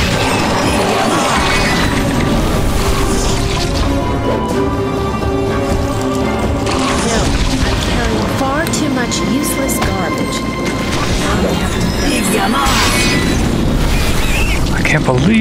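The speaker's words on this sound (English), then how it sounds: "Magic missile." Spell impact in Neverwinter Nights: booming, rumbling magical blasts burst repeatedly over a dense, continuous game soundscape, loud throughout, with a voice talking over parts of it.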